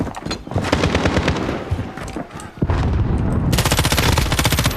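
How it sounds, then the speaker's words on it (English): Rapid automatic gunfire from an enemy sentry gun in Call of Duty Modern Warfare, loud sustained bursts with a brief pause, then a dense unbroken stream of shots near the end. "Enemy sentry gun active."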